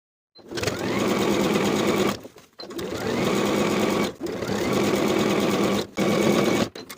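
Sewing machine edge-stitching around a pressed pant-leg hem on a summer jumpsuit (Butterick B6566). It runs in three steady, close bursts of rapid whirring with brief pauses between them, and no talking.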